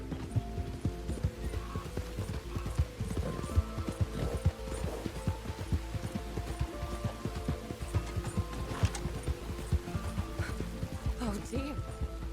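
A horse gallops steadily toward Valentine in Red Dead Redemption 2, its hooves beating a dense, continuous rhythm with a brief whinny and some mechanical clatter, while voices talk over it.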